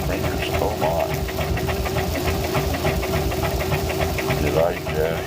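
A sewing machine stitching close by with a steady fast mechanical rattle and hum that runs without a break under the motor noise.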